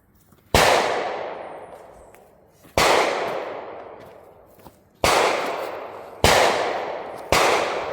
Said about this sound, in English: I was shooting that piece of tape